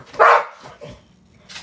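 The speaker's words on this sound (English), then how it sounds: "That's my dog." A dog gives one loud, close bark, followed by a couple of softer yips and a quieter bark near the end, in an otherwise quiet indoor space.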